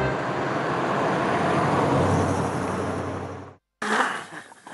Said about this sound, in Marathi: ही गाडी आता सुरू होईल का बघूया आपण.